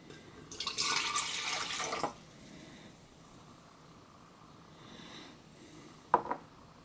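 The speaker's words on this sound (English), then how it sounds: "I'm going to pour the first beaker into the hard to see through pitcher." Liquid poured from a beaker into a cloudy, hard-to-see-through pitcher during a tabletop chemistry magic trick: a loud splashing pour of about a second and a half, then quiet, with a couple of faint clinks near the end.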